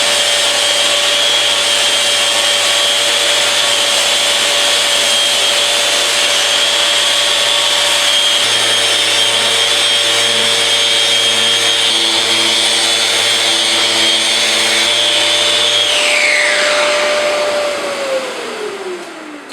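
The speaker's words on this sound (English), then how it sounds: "I'm doing the final sanding of everything now with 180 grit." A rotary sander with 180-grit paper whines steadily and loudly on wood, a constant high-pitched motor drone that winds down as the tool is switched off.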